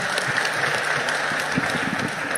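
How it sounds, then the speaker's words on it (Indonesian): A crowd claps steadily in dense, continuous applause, a room full of hands clapping at once, at a lecture at Fort de Kock University in Bukittinggi. "Tepuk tangan yang meriah."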